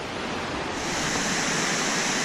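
Middleham Falls in the Dominica jungle gives off a steady, dense rush of falling water that grows slightly louder, with no voices.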